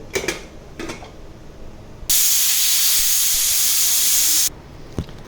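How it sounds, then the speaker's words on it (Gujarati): A pressure cooker holding a Gujarati black-eyed pea and potato curry lets off a loud, steady steam hiss for about two seconds, bracketed by a few sharp metallic clinks before and after. "હવે આપણે કુકર બંધ કરીને બેથી ત્રણ વિસલ વગાડવાની છે"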